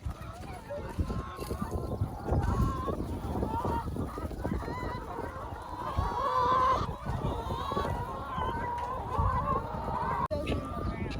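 Chickens on a farm flock of about 300 birds cluck and squawk in a busy, overlapping chorus at close range, with people talking intermittently underneath.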